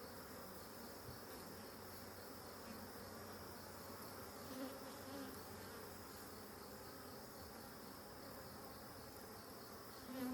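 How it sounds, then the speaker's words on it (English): A dense, steady hum of many honeybees buzzing together at an open hive during inspection, continuous and fairly soft, with no voices. "Wow, there's a lot of bees in this one."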